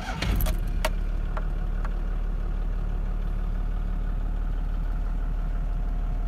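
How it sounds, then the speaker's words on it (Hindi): A Toyota Land Cruiser BJ60 engine settles into a steady, low diesel idle after a few brief clicks and rattles at the start, with no talk over it. "अब हम इसके इंजन को स्टार्ट कर लेते हैं और सुनते हैं कि कैसी आवाज़ है"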